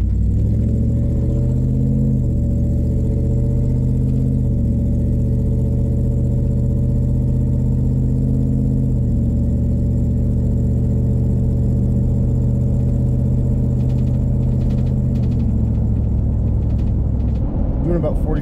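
A Toyota Sequoia/Tundra with a 4.7 V8 and an aftermarket exhaust build, heard from inside the cab as a steady, deep droning rumble that holds loud and even, stepping slightly in pitch, then easing off near the end.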